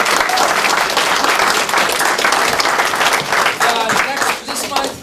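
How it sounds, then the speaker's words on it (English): Loud, dense applause from a crowd at a Scout troop Court of Honor, honoring Mr. Arvanitis, with voices and cheering mixed in before the clapping starts to taper near the end. "I want a big round of applause for Mr."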